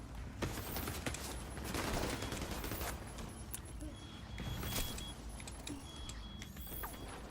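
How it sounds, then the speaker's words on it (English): The Division 2 video game combat: dense bursts of gunfire and rumbling explosions fill the scene continuously, loud and crowded, with a faint voice underneath. "Jesus Christ, more explosions."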